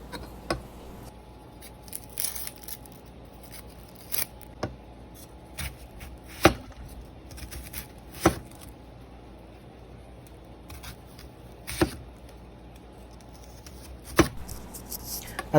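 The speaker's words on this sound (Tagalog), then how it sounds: "Una, hiwain natin ang sibuyas ng pabilog." An onion cut into rings with a knife, sharp separate chops landing on a board at an irregular pace with quiet handling between them, close and clear.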